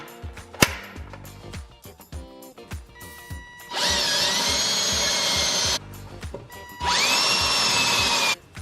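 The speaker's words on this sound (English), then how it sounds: "We're gonna drill 2 holes right here for our next one" A power drill whirs loudly in two bursts of about two seconds each, drilling pilot holes for a catch can install on a Subaru WRX, separated by quieter tapping and handling noises.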